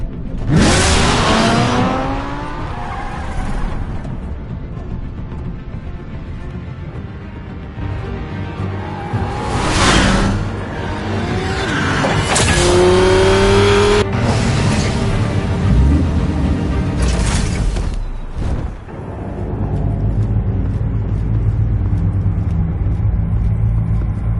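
Car in Batman: The Telltale Series revs and accelerates loudly through several gear-shift surges, engine whining up and dropping back over a continuous drive, with no voices.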